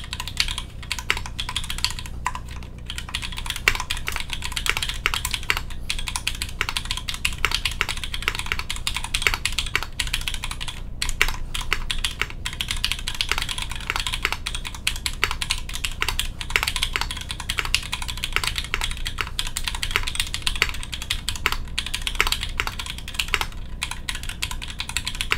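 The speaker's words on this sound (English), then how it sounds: "Yeah, ignore my typing." Continuous close typing on a Noxary mechanical keyboard with lubed parts and a polycarbonate plate gives a dense, even stream of clacky keystrokes with no talking.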